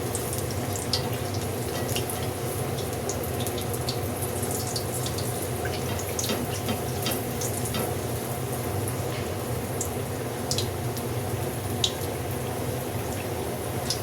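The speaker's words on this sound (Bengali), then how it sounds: "অল্প অল্প করেই ভাজি, কড়াই ছোট, এই জন্য আমি অল্প অল্প করে ভাজছি।" Stuffed capsicum fries in oil in a small wok, a steady soft sizzle with scattered crackles and pops throughout, fairly quiet and continuous with no talking.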